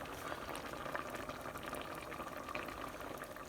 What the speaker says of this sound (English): That's out in the pan, just bubbling down nicely.